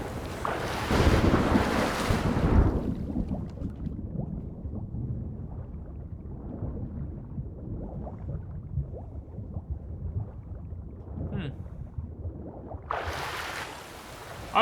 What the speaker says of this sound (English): Oh, it looks like I'm actually heading into the storm.